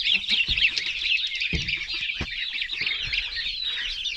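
Busy chatter of ducks, geese and chickens: many high chirps and peeps from small birds, with occasional low clucks and thumps, fairly close and continuous.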